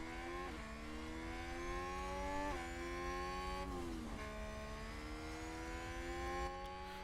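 A Formula 1 car in F1 Manager at Monaco whines steadily at a distance, its engine pitch dropping in several distinct steps as it slows for a corner; the sound stays faint and smooth.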